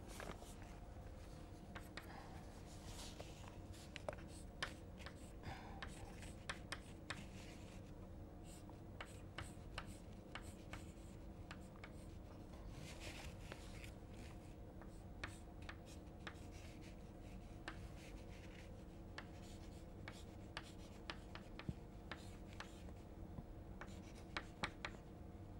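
Chalk or marker scratching out equations by hand on a board during an engineering lecture on rocket nozzles, a faint steady run of small strokes and taps over a quiet room hum with no talking.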